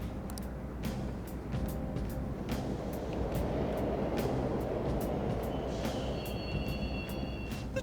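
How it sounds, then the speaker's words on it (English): Subway train rumbling through the Mementos tunnels in Persona 5 Royal, a steady close roar of wheels on rails with faint high squeals and clicks, no talk. "The trains are totally running."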